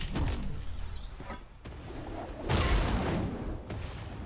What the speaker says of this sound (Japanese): 右から銃声